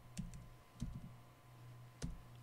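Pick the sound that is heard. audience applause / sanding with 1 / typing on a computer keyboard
typing on a computer keyboard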